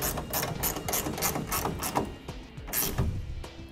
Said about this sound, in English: 9/16 wrench to tighten it down.